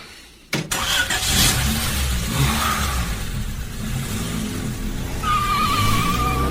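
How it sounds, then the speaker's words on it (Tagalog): A car engine idles and hums steadily amid heavy Manila city traffic, a loud, continuous low drone starting with a sharp jolt, with a faint tonal whine near the end. "Kaya lang sobrang traffic."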